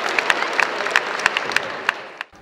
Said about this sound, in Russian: Восторженные зрители громко аплодировали победителям.